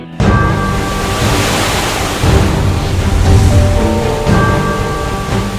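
A waterfall with vivid blue water, a loud continuous roar of rushing, falling water that swells slightly in places, close and steady with no voices.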